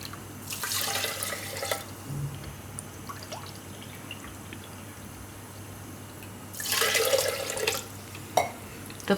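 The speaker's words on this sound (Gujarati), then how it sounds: "તો હવે આમાં પાણી નાખીશું." Water poured from a cup into a pressure cooker holding rice, in two broad splashing bursts separated by a quiet pause, with a few faint drips and clinks.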